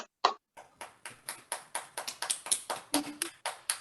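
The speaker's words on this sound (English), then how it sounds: "let's all have a round of applause for Chandra" Applause from a small remote audience at a virtual recital comes through as distinct individual claps in a quick, uneven rhythm, close and sharp, with no other sound alongside.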